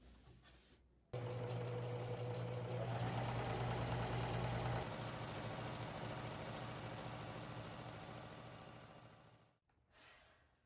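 Sewing machine stitching upholstery fabric for an antique furniture reupholstery job, a steady loud mechanical whir running almost continuously for about eight seconds before stopping.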